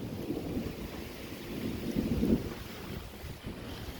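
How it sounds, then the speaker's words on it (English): Gusting wind roars during a thunderstorm with tornado and flash-flood warnings in Toronto, a steady low rumble that swells to a stronger gust midway before easing, heard alone with no talking. "The wind's picking up again."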